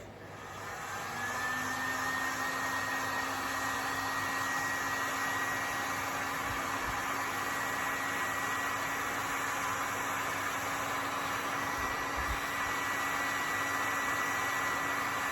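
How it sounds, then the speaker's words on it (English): Heat gun blowing hot air to flare the edges of PVC pipe, a steady loud whooshing roar with a fan whine that starts up and holds constant, close by and alone. "With a heat gun, it'll be quick."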